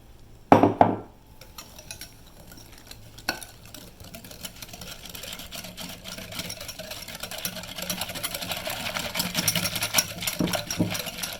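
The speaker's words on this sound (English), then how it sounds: "So you're going to have to really whisk it and whisk it quick." A whisk beating egg into hot chocolate cake batter for an old-fashioned Southern tunnel of fudge cake, a steady rapid scraping and clinking against the bowl that builds in loudness after a couple of sharp knocks at the start.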